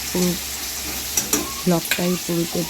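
Fish curry cooking in a kadai, with a spoon scraping and stirring against the pan over a steady background hiss, several short clanks standing out.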